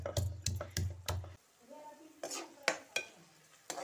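Garlic and ginger are pounded by hand in a kitchen during biryani cooking, giving a few dull thuds in quick succession at close range, followed by lighter scattered clinks and taps.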